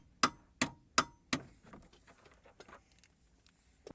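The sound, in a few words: torque wrench tightening bolts on Jaguar X-Type spring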